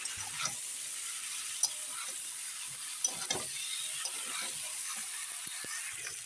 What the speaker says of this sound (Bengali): দেখো সুন্দর করে কষিয়ে নিচ্ছি